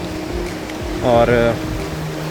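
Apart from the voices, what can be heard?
waterfall on the Gaurikund to Kedarnath trail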